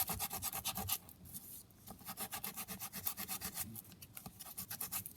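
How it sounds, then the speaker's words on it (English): Sandpaper scrubs back and forth over a thin chipboard surface in quick, rhythmic strokes, close up and fairly quiet. "I'm just going to take my sandpaper to the surface"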